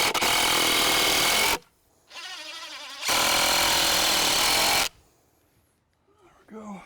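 Power saw cutting a board in half during treehouse building: two loud, harsh bursts of whining cutting about a second and a half each, separated by a short quieter gap, then the saw winding down to near silence.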